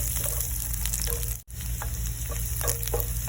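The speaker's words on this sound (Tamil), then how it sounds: "நல்லா அந்த பட்டரில் ஃப்ரை பண்ணிங்க. பூண்டு கொஞ்சம் ப்ரௌன் ஆகிற அளவுக்கு." Crushed garlic frying in butter, a steady close sizzle with small crackles and a few stirring scrapes, broken by one very short silent gap partway through.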